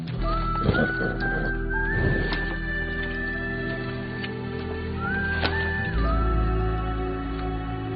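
A horse whinnies with rising, whistling calls alongside a few clip-clopping hoof steps, close and fairly loud over a steady background, in an outdoor film scene.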